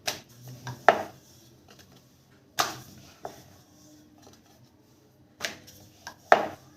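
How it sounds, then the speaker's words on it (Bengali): A knife finely chops onion, green chilli and ginger on a board for egg Mughlai paratha, giving a few sharp, close strikes in irregular clusters separated by quiet pauses. "পেঁয়াজ, কাঁচা লঙ্কা আর আদা খুব সরু সরু করে কাটতে হবে"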